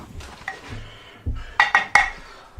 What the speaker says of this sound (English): I'm just going to give this a good stir